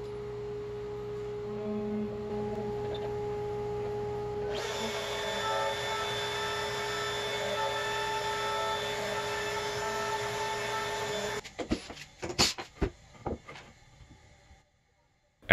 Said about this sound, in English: it's over to my homemade CNC machine to start engraving the numbers